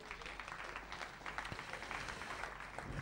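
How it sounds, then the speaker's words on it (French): A church congregation claps together in a steady, faint wash of applause, continuous and even throughout the short stretch with no voices standing out. "Applaudissons le Seigneur Jésus."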